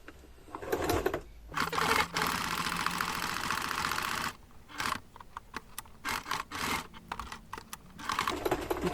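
Domestic sewing machine stitching fabric for a children's mouse bag, with fast mechanical whirring in bursts separated by short pauses, running steadily at first and then in stop-start spurts, close and clear with no talking.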